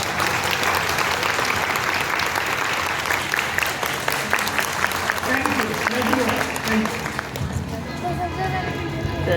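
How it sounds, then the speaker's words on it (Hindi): An audience at a school sports day gives loud, sustained applause that thins out near the end, while a voice speaks and fragments of music emerge over the fading claps. "प्लीज इनके लिए तालियां।"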